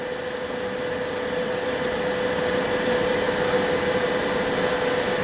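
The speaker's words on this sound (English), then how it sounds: "the printer has heated up to the temperature you have selected, minus 15 degrees, and purging the nozzle again" A Bambu Lab X1 3D printer purges its nozzle after heating, a steady close whirring hum with a constant tonal whine, loud and unbroken throughout.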